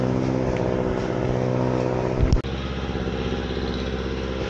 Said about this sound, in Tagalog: Narinig yung sasakyan, hirap na hirap umahon.